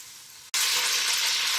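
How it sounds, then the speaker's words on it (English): Tri-tip meat sears in a preheated Dutch oven, a sudden loud sizzle that bursts in after a short quiet moment and carries on steadily and close, with no voices. "As you can hear, this meat is going really, really well, sizzling good."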